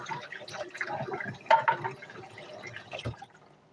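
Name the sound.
water running while washing sticky hands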